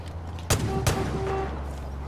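Enemy gunfire in Far Cry 5 cracks out as two loud, sharp shots about a third of a second apart over steady game ambience and droning music.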